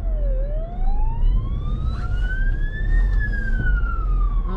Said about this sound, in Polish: Karetka jedzie.